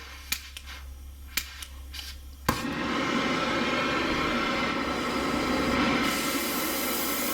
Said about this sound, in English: open my valving on my torch here. And we're going to let the gas flow and let's strike up a fire